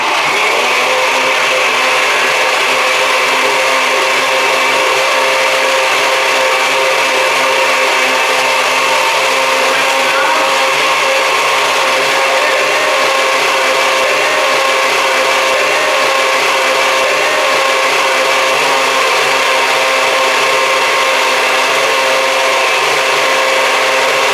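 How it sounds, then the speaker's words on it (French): A blender whirs steadily as it grinds soaked soybeans with water into soy milk, a loud continuous motor hum with a bright, even texture holding for the whole stretch, no voices over it. "Et on mélange et n'oublions pas l'étape la plus importante."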